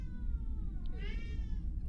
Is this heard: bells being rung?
no